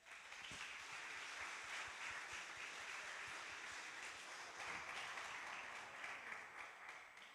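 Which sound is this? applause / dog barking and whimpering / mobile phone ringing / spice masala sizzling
applause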